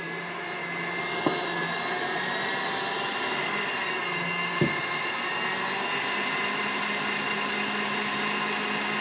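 An electric mixer whipping egg whites with sugar for an exotic Christmas yule log, giving a continuous close whirring drone with two brief knocks of the beaters against the bowl.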